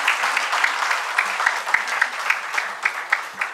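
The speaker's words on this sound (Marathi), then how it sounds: "त्यांना आपण टाळ्या वाजून त्यांचं अभिनंदन करूया" An audience at a book event claps together in a steady round of applause, dense patter with scattered sharper claps and no speech over it.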